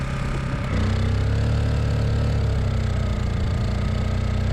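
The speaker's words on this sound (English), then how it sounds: "It's in eco mode, that's why it's idling so low right now." A Honda EU1000i portable generator runs at a low, steady idle in eco mode, droning evenly throughout with a slight shift in pitch near the start.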